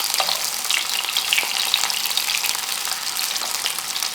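Prawns crackle and spit in hot oil with curry leaves, a dense steady sizzle filling the whole stretch close up, with no voices over it.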